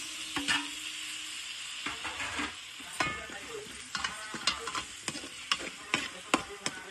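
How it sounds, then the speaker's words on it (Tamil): Tomatoes sauté with ginger garlic paste for a chicken curry, with a soft sizzle under repeated sharp scraping and stirring strokes against the pan and no talk. "தக்காளியை இப்போ நல்லா வதங்க விடணும்."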